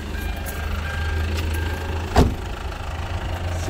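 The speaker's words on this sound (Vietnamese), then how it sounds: "Đó là khối động cơ dầu diesel." A Hyundai Santa Fe MLX's 2.2-litre turbo diesel engine idles with the bonnet open, a steady low rumble throughout, broken by one brief sharp knock partway through.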